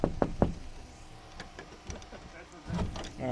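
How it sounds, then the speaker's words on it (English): Someone knocks on the door of an outhouse toilet: three sharp, close raps at the start, then quiet rustling and a muffled thump near the end. "We got a knock though to make sure no one's in here."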